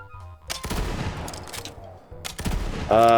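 Burst-fire gun in Borderlands 3 shooting in short, sharp clusters of rapid shots, with two or three bursts spaced apart, loud and close. A brief tonal game sound follows at the end.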